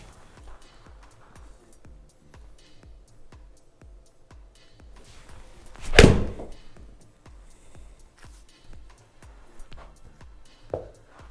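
A single sharp golf ball strike off a 7-iron lands mid-sequence, loud and close against a quiet practice setting, with faint rhythmic ticking and a smaller knock near the end.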